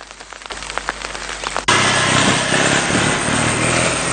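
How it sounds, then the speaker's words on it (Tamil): Heavy monsoon rain in Ampara district, Sri Lanka, starting as scattered drops and taps, then jumping abruptly into a loud, dense, steady roar of downpour on surfaces, close and without talk. "அம்பாறை மாவட்டத்திலும் தொடர்ச்சியாக மழை பெய்து வருகின்றது."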